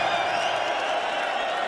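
Darts crowd at a PDC Premier League match cheering and whooping for Luke Littler, a dense, steady roar of many voices and applause across the whole moment.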